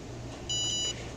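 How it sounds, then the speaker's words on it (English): A single short, high electronic beep from a QBox device right after its button is pressed, clear and close over faint background hum. "You'll hear that beep that I talked about"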